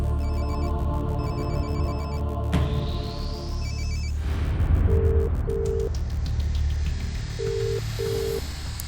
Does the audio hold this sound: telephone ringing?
yes